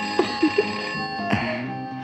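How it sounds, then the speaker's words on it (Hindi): A telephone rings with a bright, tonal electronic ringtone that plays a few short notes and then a sustained sequence, heard clearly in a Hindi-dubbed action film scene. "ओहो, फोन तो उठाओ।"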